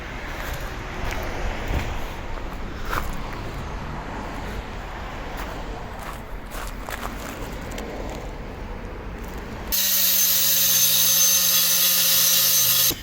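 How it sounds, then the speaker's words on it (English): A power grinder cuts in loud and close near the end, scouring rust off a car exhaust before welding on a G35 fitted with an old Nismo exhaust from a Skyline. Before that, duller workshop clatter and rumble. "basically we just grinding off the rust, so it's good for welding"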